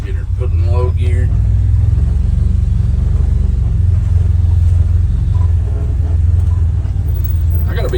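A 2025 Can-Am Defender Lonestar Limited UTV on Valor V14 wheels creeps down a steep, storm-worn slope in low gear, its engine giving a loud, steady low rumble throughout with brief talk near the start.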